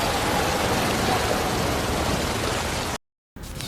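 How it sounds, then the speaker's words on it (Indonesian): Rain falls steadily in a film scene about survival adrift at sea as a loud, even wash of broadband hiss, cutting to brief silence near the end before the noise resumes more softly. "Beruntung, hujan turun lagi."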